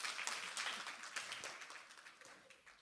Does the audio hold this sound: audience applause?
yes